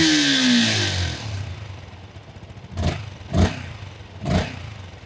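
A Yamaha MT-15 motorcycle's small single-cylinder engine, about 15 horsepower, blips loudly three times in quick succession after a fading drone, each rev rising and dropping sharply close by.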